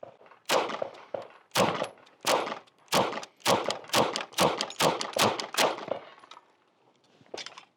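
A Sig Sauer P226 MK25 pistol fired at an outdoor range, a brisk string of about a dozen sharp, loud shots in quick succession, then a pause and one final shot, with no talking.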